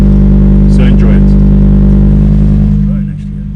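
A Lamborghini Huracan Evo RWD is heard from inside while driving, its engine a loud steady drone with a low, even tone that eases off slightly near the end. No one speaks.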